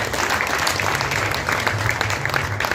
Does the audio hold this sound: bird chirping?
no